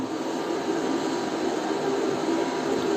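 An inverter cooling fan under about 2.4 kW of load gives a steady, loud whooshing hum with a faint tonal drone, running without pause, close by and unchanging.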